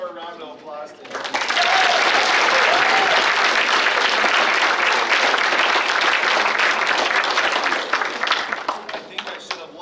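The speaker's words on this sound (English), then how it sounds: "Let's give one more round of applause to him." An audience at a kindness, respect and inclusion day celebration bursts into loud, sustained applause that holds steady for several seconds, with a voice speaking just before it begins and cheers mixed into the clapping.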